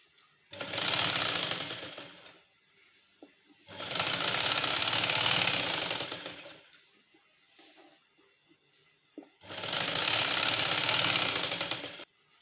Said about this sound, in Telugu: రివర్స్ చేసుకొని పైన కూడా ఒక కుట్టు వేసుకుందాం